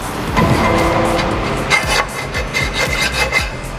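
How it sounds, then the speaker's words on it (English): A hand file rasps against metal in a workshop where an R32 GT-R is being fitted with a dry sump. It makes several short, uneven strokes, close and fairly loud, with no talking. "Put a file on that."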